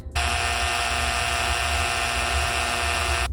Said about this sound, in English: I'm gonna go ahead and drill the hole where the hardware will go once finished